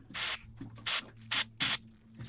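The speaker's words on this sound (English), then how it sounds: "With silicone spray, I'm going to put some inside there as well." Silicone spray lubricant hisses into the drag of a fishing reel in four short, close bursts with brief pauses between them. A faint low hum runs underneath.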